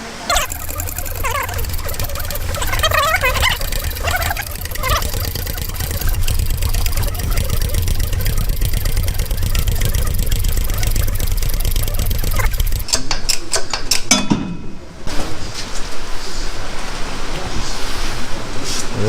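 A press working on a Mitsubishi 3000GT front lower control arm forces the old bushing out and the new one in, a loud continuous mechanical grinding and rumble with a shift to sharper scraping and clicks near the end.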